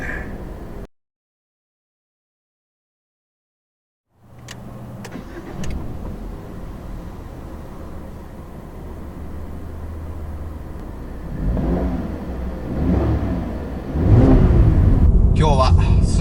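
A Subaru Impreza ST-G front-wheel-drive with a 2-litre naturally aspirated engine, heard after a short silence as a steady idle that rises into several quick, loud revs near the end.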